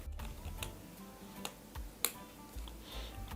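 Keys clatter on a computer keyboard in an irregular run of light clicks, with a few sharper, louder strikes standing out, close and without any voice.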